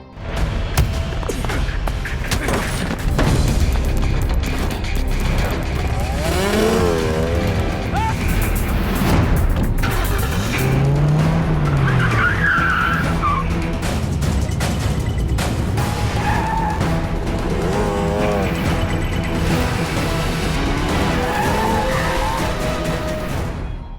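A car chase in an action film: loud roaring engines, screeching skids and crashing impacts pile into a dense, continuous soundtrack with scattered voices mixed in.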